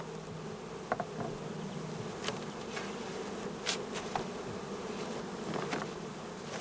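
Honey bees buzz steadily around brood boxes, a dense, continuous drone from many insects with a few louder passes as individual bees fly close by.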